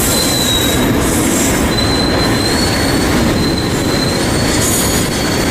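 A manifest freight train slows to a stop on the line toward Palmdale, with loud, close wheel squeal ringing in long, high tones over a constant rumbling roll of railcars.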